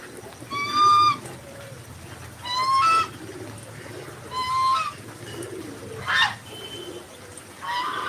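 Pigeons coo in a yard during rain, four or five distinct rolling calls close by and fairly loud, spaced a second or two apart over a soft steady background.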